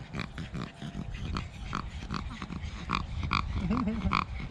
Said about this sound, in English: If I didn't see the dog, I think it's a pig.